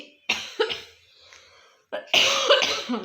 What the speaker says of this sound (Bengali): কাশিও হয়ে গেছে